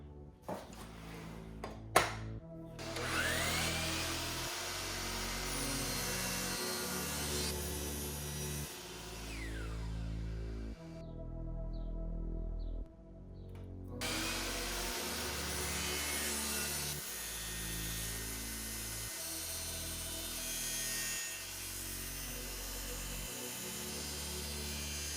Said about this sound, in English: head back to our miter saw, and we can cut all these pieces on angle so that we have the sides of the lamp